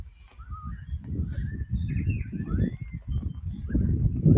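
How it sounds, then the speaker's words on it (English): Early morning birds call and chirp with rising and falling whistled notes over a low rumbling background at a lakeside, moderately distant, repeating throughout. "And we're listening to the early morning bird call."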